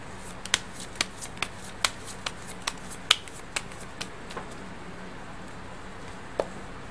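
Tarot cards being shuffled for a Thai horoscope reading, with a quiet run of about a dozen crisp riffling flicks and snaps at an uneven pace over faint room hum, and no talking.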